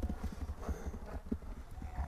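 A horse offered for sale gallops with hooves clip-clopping in a quick, even rhythm, fairly close and moderately loud over faint open-air background.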